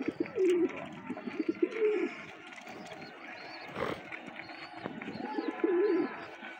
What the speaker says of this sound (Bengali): সবগুলা কবুতরই পানি খাইতেছে